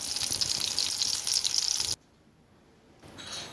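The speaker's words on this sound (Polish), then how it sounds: "Na patelni rozgrzewam olej i układam na nim kotleciki." A bright, steady sizzle of cutlets frying in hot oil in a pan, close by, cutting out abruptly midway before a quieter sizzle returns.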